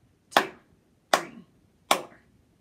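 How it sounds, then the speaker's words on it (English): Three crisp hand claps fall in an even quarter-note pulse, each sharp and close with a short decay, separated by clear silence and with no talking. "will clap four beats and then four more beats for a total of eight quarter notes"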